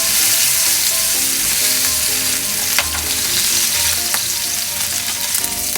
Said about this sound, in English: Sear it on this side.